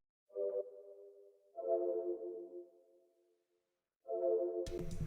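Soft synth pad tones, made from a single sampled note, swell in three sustained notes separated by silences, faint and smooth, cut off by a brief noisy burst at the end.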